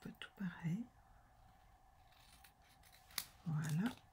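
Scissors snip through pink design paper for a pop-up scrapbook card, two crisp crunchy cuts, one early and one near the end, separated by quiet handling.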